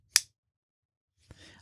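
A single sharp hand clap for syncing sound and picture cracks out loudly in a quiet room, followed about a second later by a softer second hit with a brief rustle.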